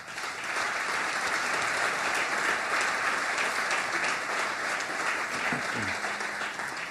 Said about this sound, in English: we should just applaud and thank us